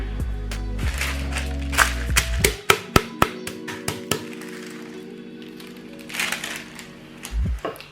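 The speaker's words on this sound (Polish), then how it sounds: "Kotlety rozbijam z obu stron." Pork loin cutlets pounded flat on both sides under a sheet of paper in a home kitchen: a quick run of about eight sharp, close thuds, preceded and followed by duller handling knocks over a low background hum.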